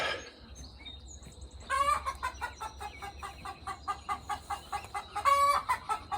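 Chickens cluck at a coop in a quick rhythmic series of close, sharp calls, with a few louder squawks breaking through and quieter stretches between, no talking.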